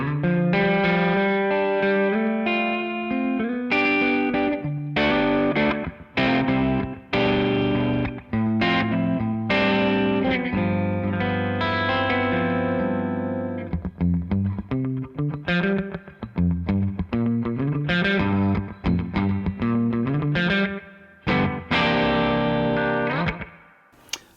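Vintage Gibson ES-335 electric guitar played through a Boss Fender '63 spring reverb pedal, with a driven, effected tone. Dense strummed chords and ringing single notes carry on steadily and loud, with brief pauses and no talking.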